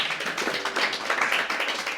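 A round of applause rings out, a fairly quiet, steady patter of many hands clapping at once, continuing through the whole short stretch.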